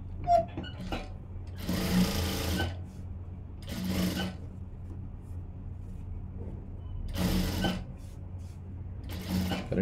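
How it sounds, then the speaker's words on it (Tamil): A sewing machine runs edge stitching along a blouse lining in short, loud bursts of rapid mechanical whirring, about four runs separated by quieter pauses with faint handling sounds. "இப்போ இப்படி திருப்பிட்டு இந்த லைனிங்கில் ஓர தையல் போட்டுடலாம்."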